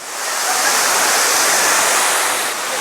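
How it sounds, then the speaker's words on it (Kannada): Hogenakkal waterfall on the Kaveri river roars as a loud, steady broadband rush of falling water heard from a viewpoint, constant throughout with no talking. "ಜಲಪಾತ ಕಾವೇರಿ ನದಿ ಹರಿತಾ ಇದೆ"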